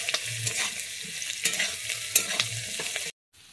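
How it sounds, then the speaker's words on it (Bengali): Ingredients including chopped green chilli being stirred and lightly fried in a pan, with a steady close sizzle and repeated scraping strokes of a spatula, ending in a brief silence. "আমি এবারে একটু কষিয়ে নিচ্ছি। আমি এখানে খুব বেশি কষাবো না, হালকা করেই কিন্তু এইগুলোকে ভেজে নেব।"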